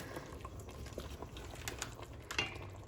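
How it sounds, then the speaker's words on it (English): Soup in a pot that has just come to a boil gives off faint, soft bubbling and light crackling patter, quiet and close, with occasional small pops. "So this has come to a boil."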